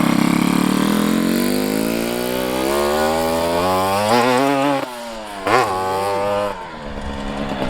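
A Nova RS two-stroke motorcycle rides past, its exhaust rising in a loud, raspy revving whine, then sweeping down and fading as it passes and pulls away, with a brief blip near the end.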